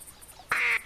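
A single short nasal duck quack from a caller in the hunting video game theHunter, close and clear over a faint background.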